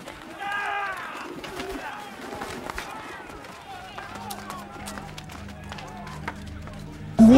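Pigeons for sale coo and flutter in a temple marketplace amid a bustling crowd, soft bird calls mixed with shuffling and voices, ending with a sharp loud burst.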